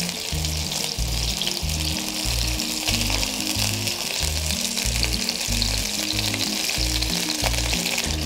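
Fish sizzling steadily in hot oil in a frying pan after being flipped to cook the second side, a loud continuous crackle lasting throughout with no talking.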